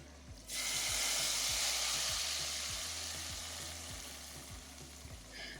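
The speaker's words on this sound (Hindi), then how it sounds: "तो हम लगा देंगे जी तड़का" Steady hiss and crackle of spices tempering in hot oil for a potato and coriander curry, loud and continuous, with a faint rhythmic clatter underneath.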